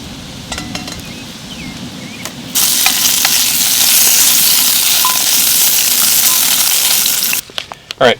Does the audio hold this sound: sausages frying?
yes